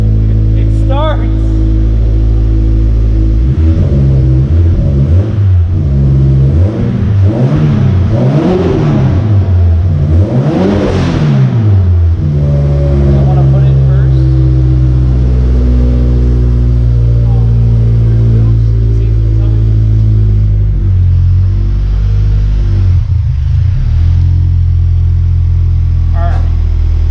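A Scion FR-S engine fires up after a new clutch, flywheel and transmission install, then revs up and down in several loud swelling bursts before settling to a steady idle, with people talking over it.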